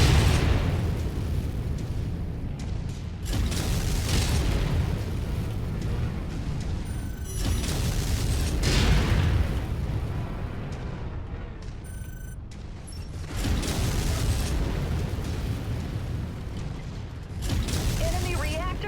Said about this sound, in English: Incoming missile.